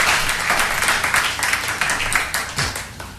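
A church congregation claps loudly and steadily in quick rhythmic unison, a dense crowd of hands close and sustained for the full stretch, with faint voices mixed in.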